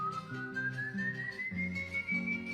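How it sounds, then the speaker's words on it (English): Eerie rising whistle of the El Silbón legend, a single sustained tone sliding slowly upward over low droning music. "whistling."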